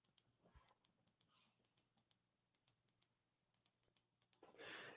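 A flashlight tail cap button is pressed repeatedly, giving sharp, crisp clicks in quick uneven runs, close and clear against near silence, ending with a soft breathy rustle.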